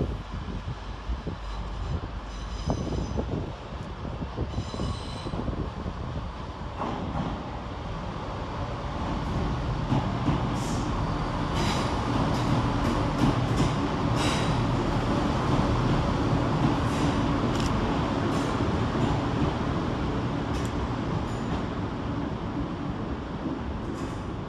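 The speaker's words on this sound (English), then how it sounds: "222003 departs with the 1449 East Midlands Railway service to London St Pancras" A Class 222 diesel multiple unit, number 222003, pulls out of Nottingham station with a steady, building engine rumble. Faint squeals and hiss rise over the rumble, with no talk.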